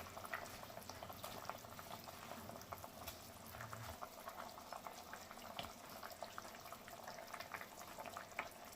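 Bengali-style curry gravy simmers steadily in a pot with fried masoor dal fritters added, a continuous low bubbling and crackle heard up close, fairly faint and even throughout.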